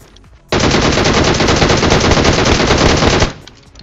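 Sustained automatic gunfire from the PUBG Mobile video game, a loud, dense burst of rapid shots lasting about three seconds before cutting off abruptly, with no talking.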